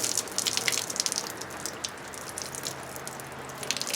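Water squeezed by hand out of wet Polypay sheep wool, giving a close splashing, dripping gush that trails off into quieter trickles and drips, with no talking.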